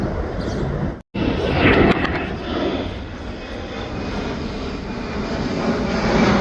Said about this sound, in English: You can feel the rumble. That's how much pressure they're putting on that engine.